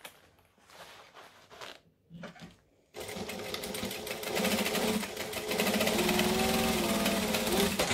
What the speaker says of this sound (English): Back stitch, because I like back stitching, and then stitch up the side, basting it down